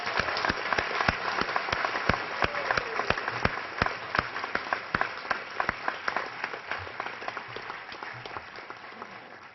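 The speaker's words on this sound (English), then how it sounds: "Now we can applaud." Warm audience applause fills a high school senior awards ceremony after scholarship winners are announced. Distinct claps patter steadily for the whole stretch and taper off slightly toward the end.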